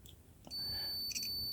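A multimeter gives a continuous high-pitched beep while probing a Swytch e-bike controller board, a steady tone sounding alone for about a second after brief handling noise.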